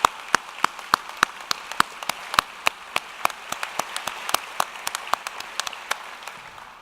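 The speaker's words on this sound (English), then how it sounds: "they deserve another round of applause for their words of encouragement and assistance." Sparse, crisp hand claps from a commencement ceremony audience arrive in an irregular rhythm, with no speech over them.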